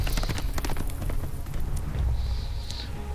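Horse hooves clip-clop in a Telltale adventure game, a rhythmic series of close, fairly loud thuds over low ambient rumble, with a faint high tone near the end.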